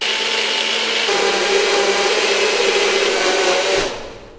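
A blender whirs steadily as it purees spinach with orange juice and water, a loud continuous motor drone that holds for about four seconds before winding down at the end.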